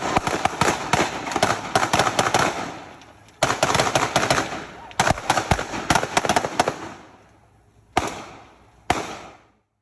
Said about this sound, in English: In the video, you see a man firing at an officer.